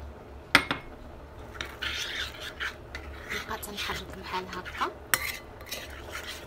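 A mixture is stirred in a glass of warm water, giving repeated scraping and clinking with a few sharp taps, close and moderately loud.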